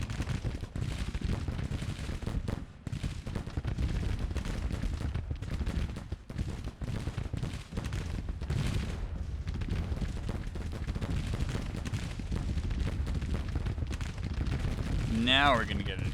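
Artillery batteries firing in a Civil War strategy game, a dense, continuous rumble of booming cannon and crackling gunfire across the whole stretch, steady and moderately loud, with a short whistling tone near the end.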